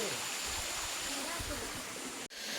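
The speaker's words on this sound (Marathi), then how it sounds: "बघा वरतून पाणी येते" Steady rushing water from a small stream in Konkan flows continuously, a broad hiss with low gurgles, with a brief cut near the end.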